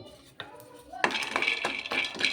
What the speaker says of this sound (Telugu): ఇప్పుడు పల్లీలు వేపుకుందామండి కొన్ని పల్లీలు అండి ఎక్కువ కాదు